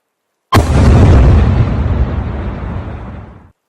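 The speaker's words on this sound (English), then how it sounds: "Young Frank grabs a grenade from his chest and pulls the pin." A hand grenade detonates in a single loud, close blast, starting sharply and then rumbling and fading over about three seconds, with no voices.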